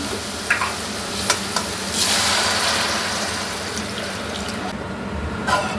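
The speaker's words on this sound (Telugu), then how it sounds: "ఇప్పుడు మనం దీనికి సరిపోయని వాటర్ వేసుకుందాం." Water hits a hot pan with a loud hiss and bubbling sizzle that swells, then settles into a steady simmer, with a few clinks of utensils.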